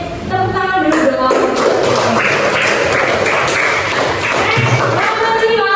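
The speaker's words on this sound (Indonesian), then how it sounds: "Tepuk tangan dulu dong." A classroom of students claps in a thick burst of mixed hand claps that keeps going for several seconds, with voices and tonal sounds underneath.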